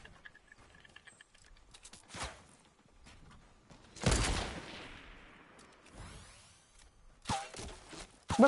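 Scattered gunshots in a Fortnite match, with a few sharp cracks and one louder blast standing out from quieter background game sounds, fairly distant and sparse.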